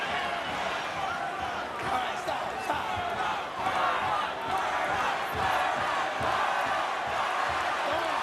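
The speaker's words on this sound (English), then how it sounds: "Berto's won over a big part of this crowd. You hear the Berto chants." A large boxing crowd roars and chants a fighter's name in unison, a rhythmic, sustained din filling an arena, with scattered shouts rising above it.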